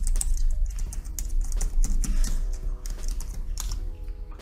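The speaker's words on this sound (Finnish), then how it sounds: "Sinun ei tarvitse tehdä muuta kuin lähteä kirjoittamaan tänne www-osoitteita" Fingers type web addresses on a computer keyboard in quick irregular bursts of clicky keystrokes, close and moderately loud, with brief pauses between runs.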